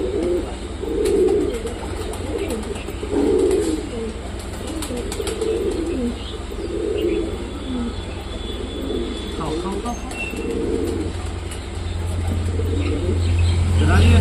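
Pet pigeons coo in soft, low, repeated bursts after feeding, fairly close by, over a steady background rumble that swells near the end.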